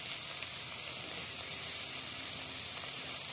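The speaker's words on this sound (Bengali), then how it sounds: "দিয়ে এবার ভালো করে একটু নেড়ে নেবো।" Veg roll filling with tomato sauce and oregano sizzles steadily in a pan, a bright continuous frying hiss with light stirring underneath, close and unbroken.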